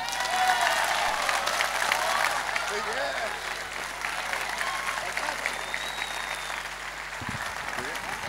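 An audience claps loudly and steadily at a live music show, the dense applause sustained without a break for about eight seconds.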